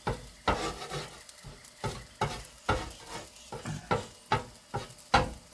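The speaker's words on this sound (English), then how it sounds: "I got a pretty good scrambled egg going here, so now I'm going to start mixing it all together." Scrambled eggs and rice frying and being stirred on a hot hibachi griddle set to high, with a steady sizzle broken by repeated rhythmic scraping strokes of a spatula, close and moderately loud, no talking.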